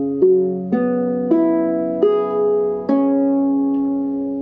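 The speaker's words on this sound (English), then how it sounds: "Up now we're going to do a song sketch with my guitalele and the new tuning, E Cuatro tuning." A guitalele in E Cuatro tuning with a low reentrant top string, strummed chords ringing out one after another, five strums in slow succession with each left to sustain, close and clear with no voices.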